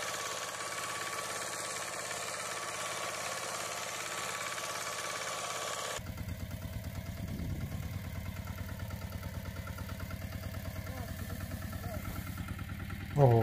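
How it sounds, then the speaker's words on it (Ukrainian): Old walk-behind tractor engine runs steadily while digging potatoes, a continuous mid-pitched chugging with a rhythmic knocking pulse, with a brief louder knock near the end. "Да, мотоблок, конечно, раритет."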